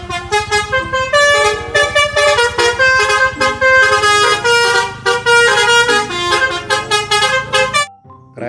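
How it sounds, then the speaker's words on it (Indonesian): A toy bus plays a telolet horn melody, a rapid series of bright, loud, tuned honks in a repeating musical pattern that stops abruptly near the end, with no voices. "Mobil bus telolet."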